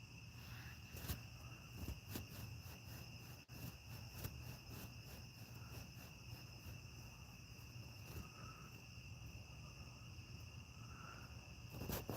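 Crickets and other insects chirp continuously outdoors at night, a faint steady trill with regular ticking pulses and no voices.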